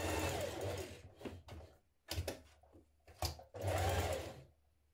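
A sewing machine bastes the raw edges of a dress together in several short runs of rapid stitching, close and clear, separated by brief pauses.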